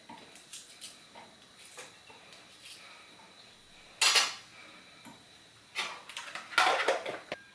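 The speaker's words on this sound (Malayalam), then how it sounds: "പിന്നെ ഒരു കഷ്ണം ഇഞ്ചി ഒന്ന് മുറിച്ചിട്ട് കൊടുക്കാം." A piece of ginger is cut for masala paste, with quiet knife taps at first, then a few louder, sharper clatters of the blade and utensils against a board or dish.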